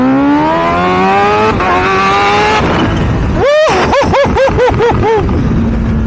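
A Kawasaki Ninja H2 motorcycle, stock with about 255 horsepower, revs loudly and close: the engine note climbs steadily, then fires a quick series of sharp throttle blips that rise and fall.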